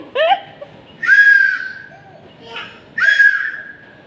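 A small whistle is blown in three sharp shrill bursts, each about half a second long, loud and close, with quieter breathy sounds and faint voices between them.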